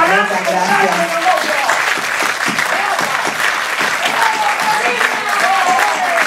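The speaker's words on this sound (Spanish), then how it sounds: "Señoras y señores, un aplauso fuerte para todas mis compañeras" Strong audience applause at an artistic gala farewell, loud dense clapping from a large crowd, with a sustained vocal or musical tone ringing over it at the start and end.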